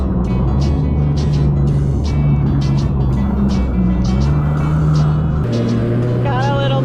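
A jet ski engine is throttled hard on a guided tour in Islamorada, a loud continuous motor whine with rising and falling pitch, splashy bursts on top and a shift near the end.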